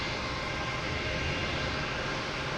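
Loud passenger jet at Boston Logan Airport, a steady broadband engine roar that holds at full strength throughout without fading.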